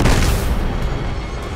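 A loud, close grenade blast in the action game Uncharted 2, a heavy boom at the start that decays into a rumbling, debris-filled roar over about a second and a half.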